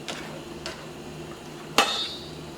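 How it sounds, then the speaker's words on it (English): A utensil clinks and scrapes against a pan while plant-based meat for spaghetti is stirred, with a few light taps and then one sharper metallic knock, close and distinct. "I'm just going to go ahead and just mix everything around to make sure all my meat is covered"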